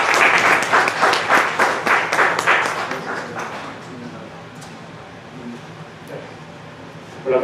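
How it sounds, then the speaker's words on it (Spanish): Loud audience applause welcoming a pediatric neurologist at a general academic session on ADHD, strong for about three seconds, then fading to quiet room noise with faint voices. "A ustedes les pido sean tan amables de recibirlos con un fuerte aplauso"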